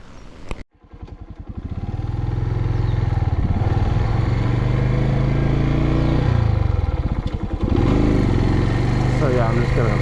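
A Suzuki TU250X motorcycle starts out with a brief sharp knock, then its engine settles into a loud, steady running drone with a short dip partway through.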